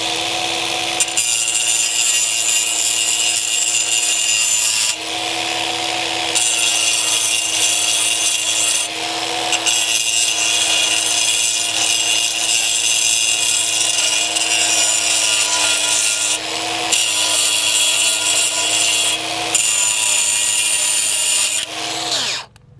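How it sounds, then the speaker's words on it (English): An angle grinder cuts a Versetta stone corner piece, a loud, continuous high-pitched whine with brief dips where the blade eases off, close up and without talk. "We'll just take our grinder."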